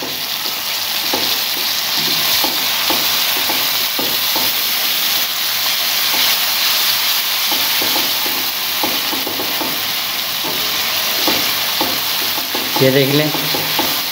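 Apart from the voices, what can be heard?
roasting chana dal with tomatoes in a pan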